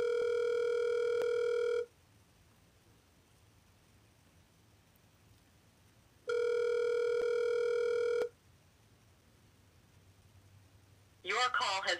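A telephone ringback tone sounds twice, each ring about two seconds long with a pause of several seconds between, clear and steady, followed by a brief burst of voice at the end.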